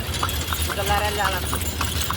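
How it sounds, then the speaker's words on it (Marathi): Horse hooves clip-clop in a steady, quick rhythm, with people talking over them and a constant low rumble behind. "बादल घोडा उडता हुआ"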